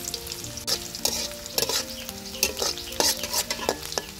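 Chanda fish and milk taro frying in oil with onion and green chilli, a loud close sizzle broken by repeated scraping stirs in an uneven rhythm.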